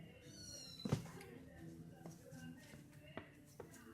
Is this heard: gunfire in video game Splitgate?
no